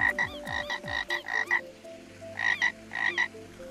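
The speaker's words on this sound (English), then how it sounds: "Next up, we have the frog. Squish it, makes a nice little noise." Frog cosmetic in Gorilla Tag giving a rapid string of bright, squeaky croak-like squishes, about five in quick succession, a pause, then two more short bursts, clear and close with no talking.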